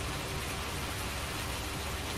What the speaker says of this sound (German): der Regen ist immer dabei